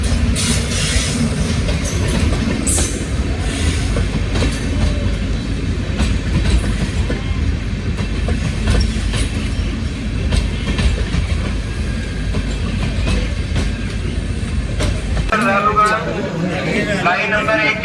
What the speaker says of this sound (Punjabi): ਤੇ ਟ੍ਰੇਨ ਬਿਲਕੁਲ ਆ ਚੁੱਕੀ ਹੈ ਜੀ ਇਸ ਜਗ੍ਹਾ ਤੇ